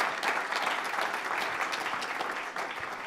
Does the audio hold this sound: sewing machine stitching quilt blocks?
no